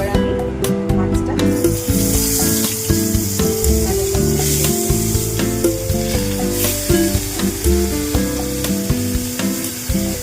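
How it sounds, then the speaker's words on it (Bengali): Koi fish frying in hot mustard oil in a home kitchen, a loud, steady sizzle and spitting hiss under a busy layer of background music, with faint crackling bursts near the start. "সর্ষের তেলটা একটু গরম হয়ে গেলে মাছটা ভাজা করে নেব"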